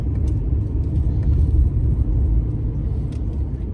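A car climbing a hill, its engine giving a steady low rumble close by, with no speech.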